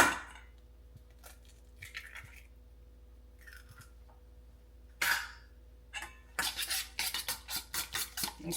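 A fork mixes a raw egg into finely broken-up crumbled ingredients in a bowl, giving scattered clinks and scrapes that quicken into a steady run of rapid tapping near the end.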